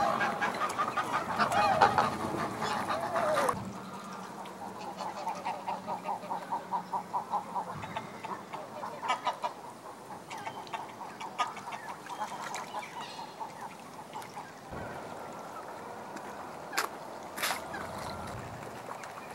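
Bewick's swans calling at a wetland reserve, a flock giving repeated honking, bugling calls in rapid overlapping bursts at mid distance, with some quieter stretches and occasional sharper nearby calls, no talk.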